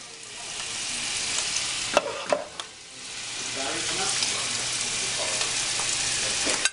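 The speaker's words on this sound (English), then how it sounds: "we got the polenta going right over here" Creamy polenta cooks in a pot and is stirred, giving a steady bubbling hiss with a few sharper spoon knocks and scrapes mixed in, close and continuous.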